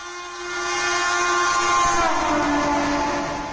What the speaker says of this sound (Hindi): ट्रेन के सफर के दौरान कई बार हमें इसका हॉर्न सुनाई देता है